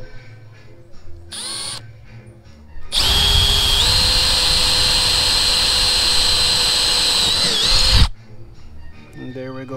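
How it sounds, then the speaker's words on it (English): Power drill boring a hole through the center of a frame for a DIY extractor, a loud steady whine lasting about five seconds after brief lighter bursts, then stopping abruptly. "I'm gonna be drilling a hole in the center of the"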